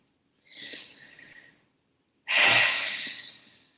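A deep breath, taken close and alone: a softer airy inhale followed by a louder, longer breathy exhale.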